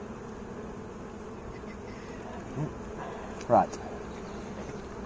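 Honeybees buzz steadily around an open beehive during an inspection, a dense, close insect hum with a few louder bees passing near, and a voice briefly speaks.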